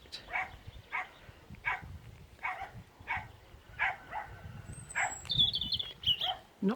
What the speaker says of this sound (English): And now we have more dogs barking in the background.